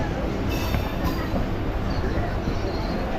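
A local stopping train departing a station on a Kolkata–Mayapur trip, a dense continuous rumble of wheels and carriages close by, with faint background voices mixed in.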